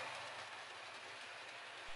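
A model railway express train rolls past at close range, a steady broadband rumble with a faint rhythmic clatter of wheels on track running throughout.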